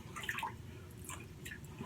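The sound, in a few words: water dripping into shaving soap bowl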